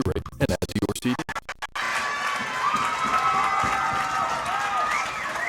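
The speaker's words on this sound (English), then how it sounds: "the loudest we've heard the crowd all afternoon" A large crowd roars and cheers loudly at a girls high school lacrosse semifinal, a sustained wall of shouting that follows a burst of sharp clatter and footfalls, with a voice talking at the start.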